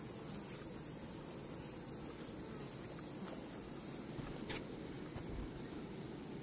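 Honeybees swarm outside their hive to defend against attacking hornets, making a faint, steady insect hum that holds unbroken throughout with no talking.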